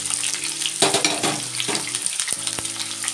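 Onions and bay leaves sizzle steadily in hot oil for a mutton curry, a continuous bright frying hiss with a few stirring clinks and scrapes, close and alone.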